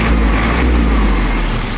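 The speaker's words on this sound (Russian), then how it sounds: "Прекрасно набирает обороты." A PROGRESS all-wheel-drive mini tractor for farm work runs its engine up steadily, a loud, close, continuous rumble with a smooth rising hum and no voices.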